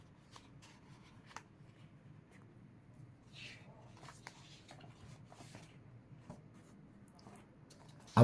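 A pen scratches across paper in quiet, faint strokes, with short irregular scribbling bursts and brief pauses over a low background hum.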